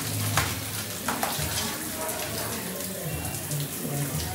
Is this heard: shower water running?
yes